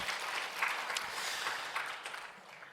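A church congregation claps together in applause, a steady, dense wash of hand claps from a crowd in a sanctuary, moderately loud and sustained throughout without talk.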